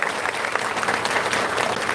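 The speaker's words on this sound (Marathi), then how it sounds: "एकदा सर्वांनी जोरदार टाळ्या वाजवल्या" Loud, dense applause from a crowd at a Maharashtrian village gathering during an akhand harinam saptah, steady and sustained throughout with no break.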